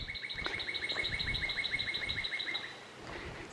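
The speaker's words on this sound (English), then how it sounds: "Serenaded by birds, that's a plus." Birds chirp outdoors in a quick, repeating series of high bright tweets, fairly clear over faint background noise, fading out toward the end.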